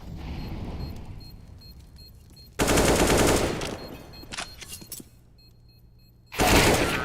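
Gunfire from a Counter-Strike match on the Mirage map, heard as two loud bursts of rapid automatic fire separated by quieter game ambience and a few sharper single shots.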